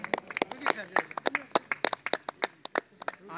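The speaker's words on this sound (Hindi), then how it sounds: "एक बार जोरदार तालियां हो जाए प्लीज" An audience claps at a farewell program, a run of sharp, uneven hand claps close by for a few seconds with a voice speaking over them.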